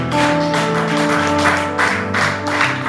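A church congregation claps and cheers loudly during a sermon, with rhythmic bursts of applause over sustained organ or keyboard chords.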